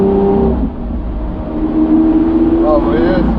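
Lamborghini Aventador S engine heard from inside the car as it downshifts, a loud steady drone that climbs into rising rev sweeps near the end, with people talking over it.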